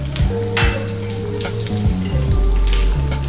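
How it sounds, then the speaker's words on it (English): Pandan (rampe) leaves and curry leaves sizzling loudly in hot oil while cooking a Sri Lankan black chicken curry, a dense close crackle and hiss throughout with a low hum from the stove underneath. "we'll be dropping in the Pandam leaves, also known as Rampa, and the curry leaves"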